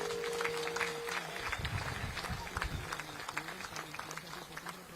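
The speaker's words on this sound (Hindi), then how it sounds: "एक बार तालियां सब लोग बजा दीजिए तो मैं मान लूं" Applause from a crowd at a Rajnath Singh political rally in Pune, a dense wash of clapping that holds steady for several seconds amid general crowd noise.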